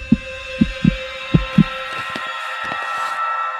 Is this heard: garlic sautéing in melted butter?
no